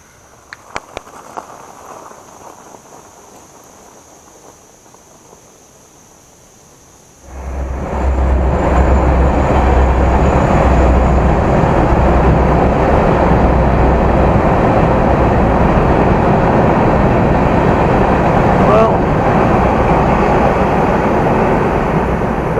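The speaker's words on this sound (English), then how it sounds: "That was a short train." A short train passes near sand and gravel beside a fat bike rider. After a few seconds of quiet, a loud, steady roar begins abruptly and holds unbroken for about fifteen seconds, with no talking.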